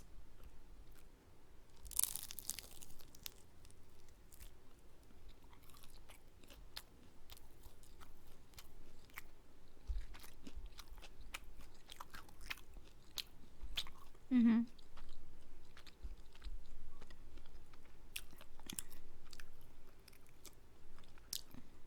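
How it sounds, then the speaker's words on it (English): Someone biting into and chewing fried kimbap with pork, Korean street food: a sharp crunchy bite near the start, then soft, intermittent close-up chewing and smacking, with a brief voiced sound partway through. "Okay, next I'm gonna try this kimbap with pork."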